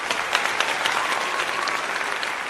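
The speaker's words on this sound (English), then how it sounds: "Applause, applause, applause." An audience applauds at a hip-hop event, a dense, steady wash of many hands clapping close and loud for the full stretch, with scattered sharper claps and no talk over it.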